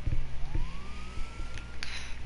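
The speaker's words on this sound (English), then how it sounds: "Turn the damn sirens off" A police siren in the video game GTA 5 sweeps upward in a single drawn-out wail over scattered game thumps and clatter, moderately loud and brief.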